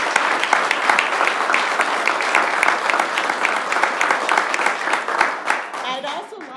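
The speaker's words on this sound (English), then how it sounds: "Let's give her another big round of applause" A crowd at a school board meeting claps in dense, steady applause. It is close and loud throughout, then tapers off slightly near the end.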